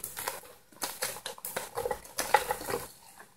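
Chicken wings and garlic are stirred in a hot pan, with a spatula scraping and clattering in quick irregular bursts over a light sizzle.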